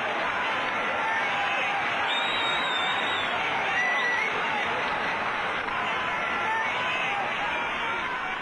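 A racecourse crowd at the 1966 Grand National finish at Aintree, a dense, continuous roar of cheering with voices swelling and blending, loud and steady throughout.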